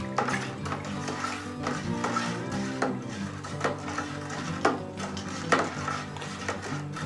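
Thick pumpkin and brown sugar whiskey mash is stirred in a vessel with a steady, churning slosh. Irregular knocks and scrapes sound throughout, and a few louder bumps stand out at close range.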